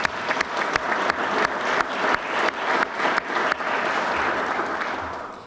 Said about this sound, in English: Please join me in a round of applause for First Sergeant Holmgren.